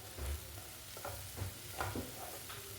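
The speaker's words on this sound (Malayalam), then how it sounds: "നന്നായി ഇളക്കി യോജിപ്പിക്കുക." Spatula stirring Kerala-style payar thoran, a green bean stir-fry, in a pan: soft repeated scraping strokes over a steady low sizzle, close by.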